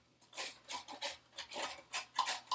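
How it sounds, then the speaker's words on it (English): A spatula scrapes under chicken thighs in a pan to flip them, giving a series of rhythmic rasping strokes, each short and fairly quiet, about eight in quick succession. "It can be easier to get under them with a spatula first and then flip them"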